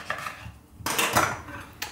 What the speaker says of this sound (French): je coupe mon citron en deux